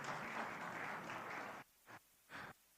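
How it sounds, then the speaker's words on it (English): An audience at a media awards event claps for about a second and a half before the applause stops abruptly, followed by two short faint bursts of scattered clapping. "Round of applause for Dr."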